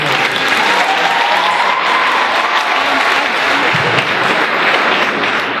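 A keynote audience gives sustained loud applause with cheering that stays dense and even, with a faint whistle-like tone running through it.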